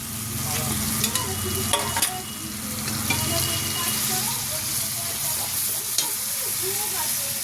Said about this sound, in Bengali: একটু ভালো করে কষাতে হবে, মাছ আছে তো অতখানি মাছ, আর আলুটাও মেশাতে হবে